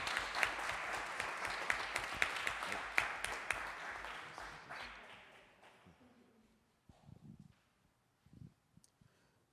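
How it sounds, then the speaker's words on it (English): Applause at a council meeting swells as dense clapping from a room of people, then fades out after about five seconds. Quiet voices and scattered sounds follow in the hall. "We can give him a round of applause."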